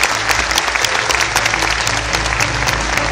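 Warm, sustained applause from an audience at a ceremony in Tabriz honouring veteran sports figures: dense, continuous clapping that stays loud and even throughout.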